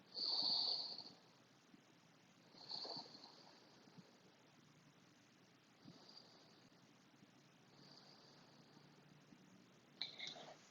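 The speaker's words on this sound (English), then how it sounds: "Take 2 more deep breaths here." Slow, deep breaths during a yoga stretch: a couple of long, breathy exhales up close, then fainter breathing in a quiet room with a soft, steady background hiss.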